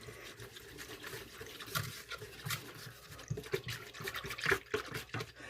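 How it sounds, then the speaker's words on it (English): A sauce of Kikkoman soy sauce and garlic powder is whisked in a bowl, giving quiet, uneven scraping and liquid sloshing that continues softly throughout. "And then I'm just going to whisk this up."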